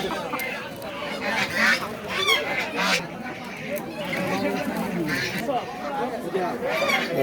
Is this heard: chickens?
yes